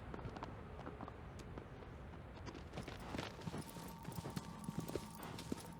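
Horse hooves in the video game Shadow of the Colossus: a quiet, steady clip-clop of galloping hoofbeats running throughout, with faint tonal game sounds appearing in the second half.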